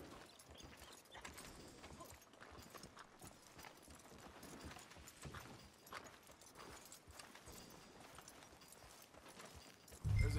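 Horse hooves clip-clopping in Red Dead Redemption 2, a steady, fairly faint rhythmic walking beat that continues throughout, with a louder low thump at the very end.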